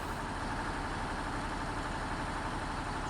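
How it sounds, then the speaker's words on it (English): An articulated tractor engine idles in Farming Simulator 19, a dense, constant low rumble that holds steady and loud throughout with no talk over it. "Midline articulating tractor here."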